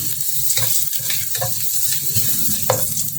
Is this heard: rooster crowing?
no